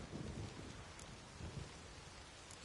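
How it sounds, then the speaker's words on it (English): Steady rain and low rolling thunder from a storm in The Witcher 3 video game, a continuous wash of falling rain with faint distant rumbles underneath. "Something's got to be done. About the storm."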